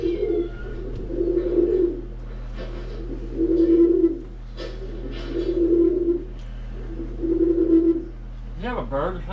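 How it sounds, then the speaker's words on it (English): A dove or pigeon cooing close by in repeated low, throaty phrases, each a couple of seconds long with brief pauses between, over a steady background hum. "You have a bird or something right now?"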